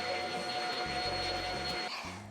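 A vacuum cleaner runs through a room cleaning, giving a steady whirring motor hum with a high whine on top and no talking, tailing off slightly at the end.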